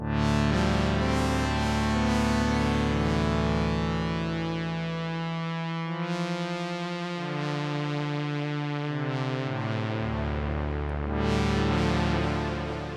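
A Roland S-1 synthesizer plays sustained, distorted tones drenched in delay and reverb, with notes smearing into long echoing tails and shifting pitch layers, loud and continuous with no voices.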